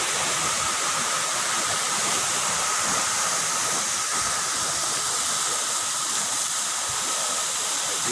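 Muddy, rain-swollen water rushing over rocks at a waterfall, a loud, unbroken broadband roar and hiss that holds steady throughout, with no voices.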